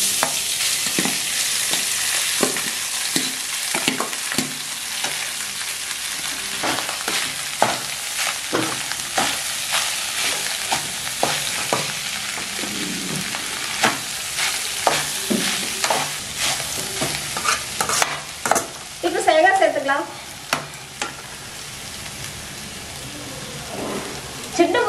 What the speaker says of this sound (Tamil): சாதத்தை கலந்துக்கலாம்